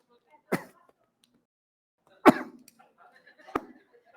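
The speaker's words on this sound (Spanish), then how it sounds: "Estoy como mi esposa con una tos ficticia." Three short, sharp coughs from a man at a church sermon, spaced irregularly in a quiet room, the second one loudest with a brief rasp trailing after it.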